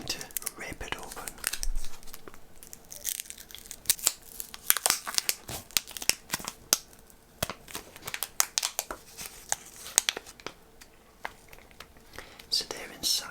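A Ritter Sport chocolate bar wrapper slides open with a series of close, crisp crinkles and soft tearing sounds, intermittent and sharp, in a quiet whispering setting.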